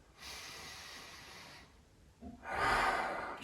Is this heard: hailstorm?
no